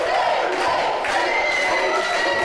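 A live wrestling show crowd in Lübeck cheers and shouts steadily for the wrestler, a dense, loud roar of voices filling the hall without a break.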